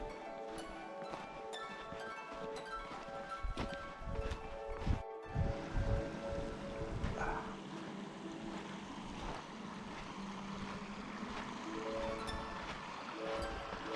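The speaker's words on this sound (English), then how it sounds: "A scenic creek crossing along the way." Creek flowing past a hiking trail crossing in the mountains near Mammoth Lakes, Inyo National Forest, heard as a steady broadband rush of running water, close and continuous, with some brief knocks and rustles early on.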